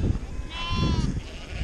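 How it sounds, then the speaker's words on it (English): Sheep bleat close by at feeding time during lambing season on a farm, a short wavering cry rising over rustling and background noise. "Feeding my sheep at the moment, and these have about finished lambing now."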